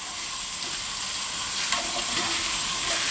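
Seafood for a marinara sizzles and steams steadily in a pan, a loud continuous frying hiss with a brief sharper burst partway through and no voices.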